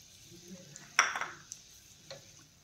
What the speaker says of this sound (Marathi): आणि खजूर छान असे मऊ होईपर्यंत आपल्याला तळून घ्यायचे आहेत